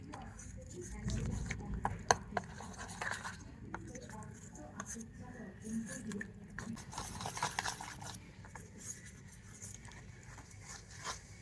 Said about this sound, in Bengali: তো জল দিয়ে আবারও ভালো করে মিশিয়ে নেব।